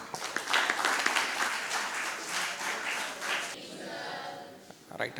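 At a marketing conclave, the audience welcomes a professor to the stage with hearty applause that swells early, carries on for about three and a half seconds, then drops away to quieter room sound.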